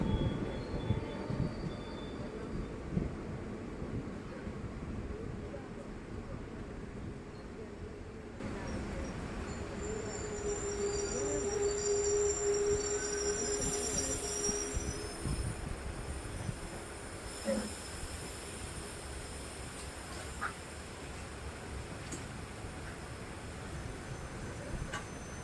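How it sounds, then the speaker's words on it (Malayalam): Puducherry–Mangalore Central Express pulling out of Mahe railway station, a long steady rumble of rolling wagons with occasional wheel squeal and hiss, heard from close by. "നമ്മുടെ ട്രെയിൻ ഇപ്പോൾ മാഹി റെയിൽവേ സ്റ്റേഷനിൽ എത്തിയപ്പോൾ തന്നെ ഈ ട്രെയിൻ ഇവിടുന്ന് എടുത്ത് പോവുകയാണ്"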